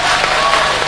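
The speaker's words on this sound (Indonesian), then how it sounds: "Tepuk tangannya keras sekali di sebelah sini nih." Loud, dense audience applause fills a crowded hall at a religious talk, steady and close throughout the brief moment.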